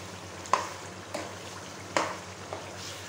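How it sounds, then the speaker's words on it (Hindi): A spoon stirs kaleji curry with garam masala and kasuri methi in a handi, giving a few soft scraping clacks about half a second apart over a low steady sizzle, with no one speaking. "थोड़ी सी कसूरी मेथी ऐड करेंगे और इसको अच्छे से मिक्स कर लेंगे।"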